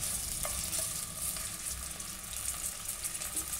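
Chicken and vegetables frying together in a pan for biryani, a steady soft sizzle running throughout with faint scraping, alone with no voices.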